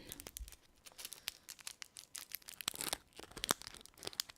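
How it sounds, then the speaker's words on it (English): A hard candy wrapper is unwrapped up close, giving a dense run of sharp crinkles and crackles in irregular bursts, crisp and intimate against a quiet background. "So we're going to unwrap one."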